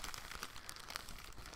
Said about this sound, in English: I have a very typical plastic bag here.